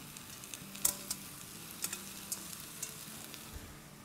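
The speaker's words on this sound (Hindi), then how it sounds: "अब हम अपनी प्यारी प्यारी पालक को डाल देते हैं।" Fresh spinach goes into spices frying in a pan for a potato-spinach sabzi, bringing a soft steady sizzle with a few light knocks and stirring scrapes spaced through it.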